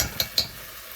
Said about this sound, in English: I'm going to keep stirring